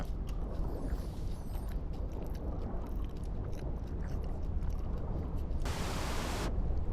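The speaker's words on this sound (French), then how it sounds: "Ah non, c'est une cascade de fou. Qui m'a l'air super haute. Fait un bruit de malade." A high, roaring waterfall in The Isle fills the scene with a loud, dense, continuous rush of falling water, steady from start to finish.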